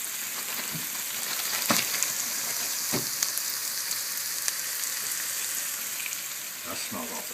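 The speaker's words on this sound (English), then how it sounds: "Bacon's definitely getting all cooked up. With the jalapeños, sauteing, the onions." Bacon, mushrooms, jalapeños and onions sizzle steadily in a frying pan, a close, even hiss with occasional pops and utensil scrapes.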